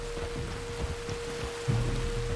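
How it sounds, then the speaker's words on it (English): Rain falls steadily in Red Dead Redemption 2, a dense, even patter with a low hum and a soft thump near the end. "You were right about the damn rain."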